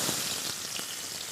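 Onions sizzling in hot oil in a kadai pan, a steady dense crackle with no voices.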